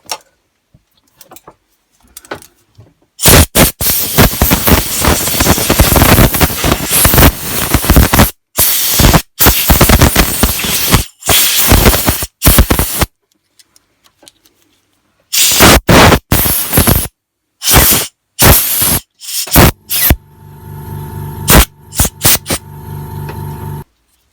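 Compressed air blasts out the body of a Ryobi hedge trimmer in a workshop, loud hissing bursts coming in long and short pulses with brief gaps, close and alone, ending in a faint rattling hum.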